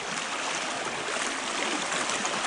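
Water in a deep, narrow creek rushes steadily, a continuous broadband hiss and gurgle heard up close with no pauses and no voices.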